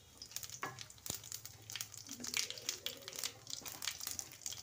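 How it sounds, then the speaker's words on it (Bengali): Dried red chilli and cumin seeds crackle and sizzle in hot oil in a kadai, a dense, close hiss with rapid spitting pops and a brief clink partway through. "পরিমাণ মতো জিরে ফোড়ন দিয়ে দিলাম"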